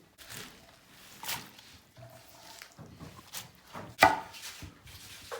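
Fresh spinach being chopped with a knife on a board while making a spinach crepe börek, giving an uneven run of soft chopping taps with one sharper knock.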